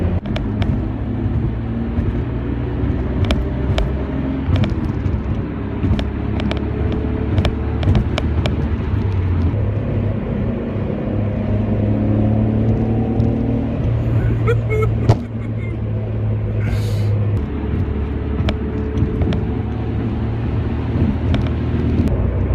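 A Nissan Skyline GT-R drives along a road, its steady engine drone and tyre and wind noise heard from inside the car, with no talking.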